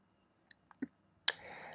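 A few soft, sharp clicks of a computer mouse on a web page, sparse and close, the last followed by a short trailing sound.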